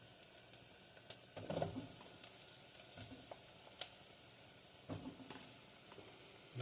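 Onions and a couple handfuls of sliced mushrooms sizzle quietly in a pan, a soft steady frying hiss broken by a few louder stirring scrapes and clatters.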